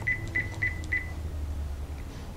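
A Sony digital voice recorder gives a quick series of four short, faint electronic beeps, evenly spaced, over a low background hum with no talking.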